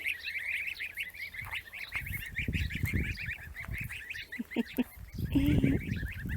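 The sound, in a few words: geese honking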